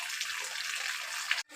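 Heavy evening rain pours down outside a house as a steady, dense hiss that stays even throughout, then cuts out sharply just before the end.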